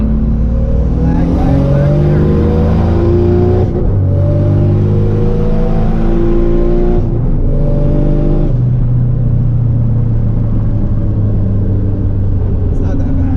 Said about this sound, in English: So we'll just do a 3rd gear, no anti-lag. Let's see how long it takes to spool.